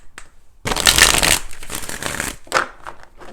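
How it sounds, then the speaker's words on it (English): Tarot cards being shuffled in a rapid riffling burst, a dense papery flutter lasting under a second, followed by softer handling and a quick second riffle. "let's go ahead and do 4 major shuffles"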